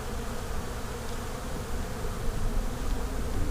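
Honey bees crowd the bottom hive body of a colony opened in January, their buzzing a continuous dense hum, close and even throughout, with no voices.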